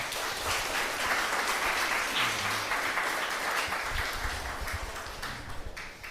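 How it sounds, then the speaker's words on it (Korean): A Korean church congregation in Darmstadt claps to welcome fellow worshippers at a Sunday harvest thanksgiving service, sustained room-filling applause with a few low thuds and stray taps underneath, easing off near the end. "우리 옆에 있는 분들 박수로 환영하겠습니다"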